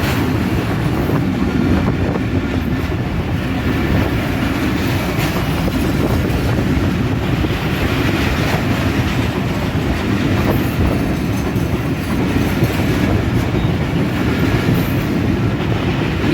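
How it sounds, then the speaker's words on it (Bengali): An Eid special passenger train pulls out of Asanganj railway station toward Parbatipur, its cars rumbling past steadily and close with continuous clickety-clack of wheels on rails and occasional faint wheel squeal, loud throughout with no talk. "ঈদের স্পেশাল ট্রেন এই মুহূর্তে আসানগঞ্জ রেলওয়ে স্টেশন থেকে ছেড়ে যাচ্ছে পার্বতীপুর অভিমুখে"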